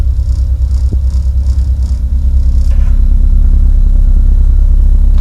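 Road work on a street outside a house, picked up by a camera microphone as a loud, continuous low engine rumble. Machinery noise fluctuates and then settles into a steady drone.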